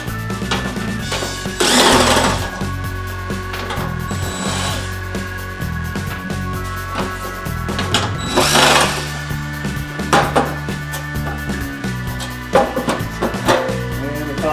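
A power screwdriver or drill whirs in repeated short bursts, close and loud, backing screws out of a portable heater housing, with tool clatter between runs over a steady background hum.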